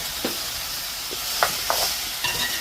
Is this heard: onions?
yes